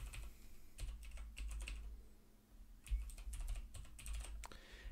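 Rapid typing on a computer keyboard in quick clustered bursts, close up over a steady low hum in a quiet room, with no speech.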